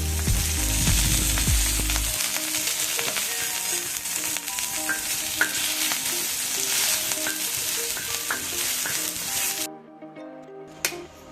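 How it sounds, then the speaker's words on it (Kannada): Food sizzles steadily in ghee in a pan over a low flame, close and continuous with light stirring clicks, then the frying cuts out near the end. "ತುಪ್ಪದಿಂದ ಸಣ್ಣ ಉರಿಯಲ್ಲಿ ಅದನ್ನು ಹುರ್ಕೊಳ್ಬೇಕು"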